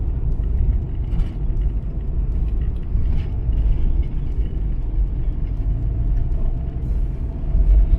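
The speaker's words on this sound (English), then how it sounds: "obviously it's the first truck I've seen in a while" A truck rolls along a quiet rural road, giving a continuous low rumble that holds steady throughout, close and fairly loud, with no talking.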